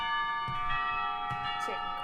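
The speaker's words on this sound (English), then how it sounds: "The clock tower bells ring, signaling the end of the period" Clock tower bells ring in the Katawa Shoujo video game, a steady sustained peal of bell tones held throughout, with a voice talking over it in bursts.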